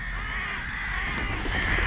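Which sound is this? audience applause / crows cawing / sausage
crows cawing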